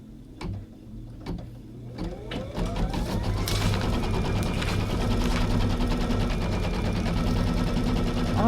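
A sewing machine stitches quilting lines along a quilt border, starting with a few sharp clicks and settling into a steady, close, rhythmic mechanical whir that runs to the end with no talking.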